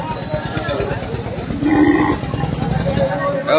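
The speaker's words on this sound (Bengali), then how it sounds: "ছোট ছোট সাইজের গরু আছে দেখুন" Cattle at a cow market moo and low through a steady crowd din, with a louder, deeper call around the middle and people talking in the background.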